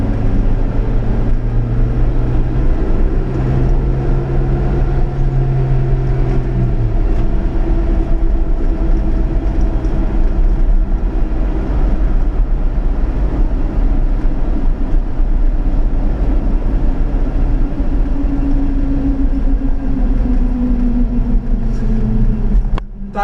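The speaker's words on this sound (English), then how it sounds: "Tires, however, do sound. I mean, you can hear them." A 1991 Subaru Sambar 4WD Super Deluxe kei truck cruising on the highway, its tires roaring in a loud, continuous low drone with engine hum beneath, steady throughout with no talk.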